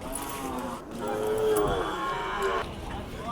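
A Khillar cow at the Sangola cattle market gives a long, loud mooing call close by, rising and falling over a couple of seconds amid faint market background noise.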